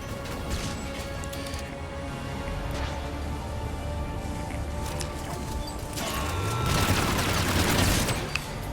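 Gunfire in the video game Mass Effect 3 fills the scene with dense, continuous shooting and impacts against armor and a force field, mixed with crashing clatter that swells louder toward the end.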